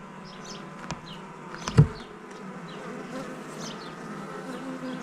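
Honeybees buzz steadily around hive frames during an apiary inspection, a continuous close hum with a brief louder knock near the middle and no talk.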